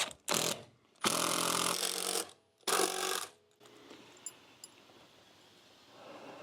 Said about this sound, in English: These are long screws. It takes a lot of juice to get these all in